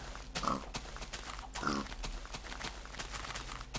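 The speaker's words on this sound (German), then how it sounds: "Schwein." A pig in the video game Minecraft gives short, faint grunts, two louder ones near the start among quiet rustles and steps, without talk.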